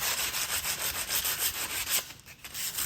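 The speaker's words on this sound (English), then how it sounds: "This is just 100 grit sandpaper," 100 grit sandpaper rubs back and forth across a live edge wood slab in quick, rhythmic rasping strokes, a close, loud scratchy hiss that pulses with each pass and eases slightly near the end.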